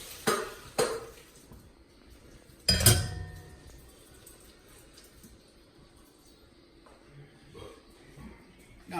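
Strained ditalini pasta tipped into a pot for pulled meat chili, giving a few sharp clinks and a loud clattering splash, with quieter scraping afterward.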